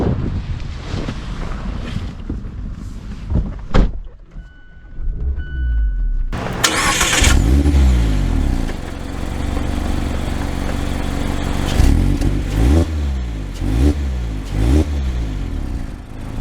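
A new Mazda Miata Club with BBS wheels, Brembo brakes and Recaro seats starts up with a quick rev, then idles and drives off, its engine droning steadily and surging through gear changes alongside wind noise.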